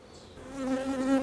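Honey bees buzzing during a hive inspection, a steady droning hum that swells in loudness, close and continuous with no talk.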